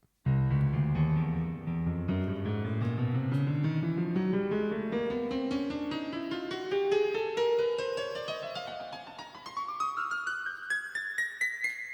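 A Yamaha PSR-E353 keyboard on its piano voice plays a steady run of notes climbing from low to high, each one ringing into the next, loud and clear with no voices.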